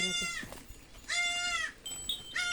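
A goat bleats several times, loud and close, with long wavering cries separated by short pauses.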